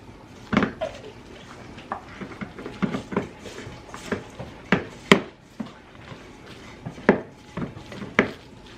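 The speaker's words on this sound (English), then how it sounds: "And we're just going to stir this all together." Spoon stirring a casserole mixture with dried parsley in a pot or dish, giving irregular scraping clinks and soft knocks against the sides, close and moderately loud, with no talk.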